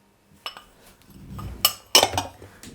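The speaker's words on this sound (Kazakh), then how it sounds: "Қант ұнтағында қасықпен араластырып аламыз." A spoon stirs powdered sugar into curd cheese in a bowl, giving a few sparse, light metallic clinks and taps against quiet scraping, the sharpest knocks landing near the end of the brief moment.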